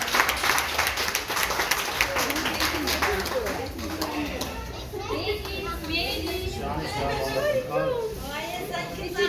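Applause and clapping from an audience for young children, mixed with children's voices and chatter, with a person speaking over the crowd noise.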